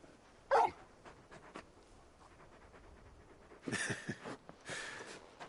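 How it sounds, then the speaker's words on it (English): A large dog in a video game gives a sharp bark, then a run of soft panting and whimpers, and ends with two more yelping whines, loud bursts with quiet breathing between them. "You're just a big puppy, aren't you? A very big puppy."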